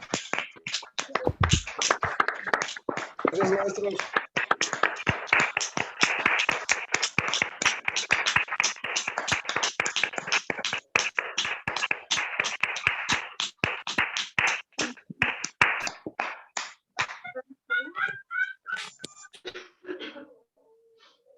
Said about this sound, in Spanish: para darle un fuerte aplauso a la cuenta de 3 al profesor por dicho webinar